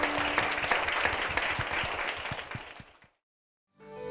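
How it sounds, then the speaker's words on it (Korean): A church congregation applauds during a televised worship service, filling three seconds with steady, close clapping that stops abruptly, followed by silence and a faint return of sound. "주님께 큰 영광의 박수를 드리겠습니다"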